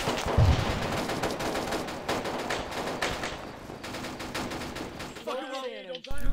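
Video game gunfire in Arma 3: a rapid, steady rattle of automatic weapons with dense cracking shots throughout, fairly quiet in the mix, ending with a short burst of voice as it cuts off.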